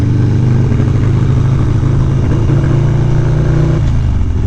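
A Harley-Davidson Low Rider ST motorcycle engine while riding in New York, a loud steady mid-pitched drone that rises slightly and eases off near the end, with no talk.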